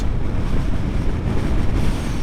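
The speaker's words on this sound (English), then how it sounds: "Oh, it's windy as well." Strong wind buffets the microphone on a mountain road in the Brecon Beacons, a loud, continuous low rumble and roar without a break and with no one talking.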